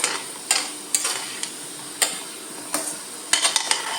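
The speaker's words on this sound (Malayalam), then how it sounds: "നമ്മളൊന്ന് സ്പൂൺ കൊണ്ട് ഇത് ഇളക്കുമ്പോൾ എണ്ണ ഇങ്ങനെ ഇളക്കിയാൽ മതി" Wheat flour ball snacks fry in hot oil under a soft, steady sizzle, while a spoon stirring them lands sharp metallic taps against the pan at an irregular pace.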